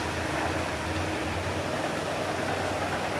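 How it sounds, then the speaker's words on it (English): A train rolls past along the valley bottom below a solo ultralight campsite, a steady low rumble with faint rhythmic rail noise, moderately distant and continuous, with no talk. "there's a train going past"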